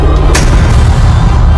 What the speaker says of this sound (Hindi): जब प्रेशर कुकर बम फटता है तो आवाज की गति से भी तेज धमाका होता है।